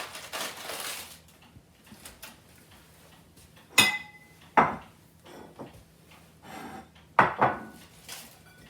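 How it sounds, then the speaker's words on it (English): A head of lettuce is smacked on a kitchen countertop and broken apart by hand, giving several sharp thuds spaced a few seconds apart amid soft crunching and leafy rustling close by, with no talking. "smack it on the countertop, and your heart comes right out"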